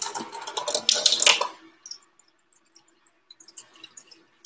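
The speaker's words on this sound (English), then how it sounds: "I got to put some more water in here." Water pours noisily into a soup pot for chicken noodle soup for about a second and a half, then fades to a few scattered drips and faint clinks in a quiet room.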